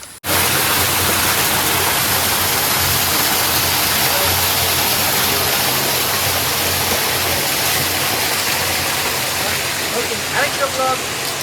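Waterfall in Tripura gives a dense, continuous roar of rushing water, loud and close, holding steady throughout with a few faint knocks near the end.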